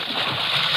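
Splash as people go into the water from a wrecked boat in an old-time radio drama, a continuous broad watery wash at close range with no talk over it.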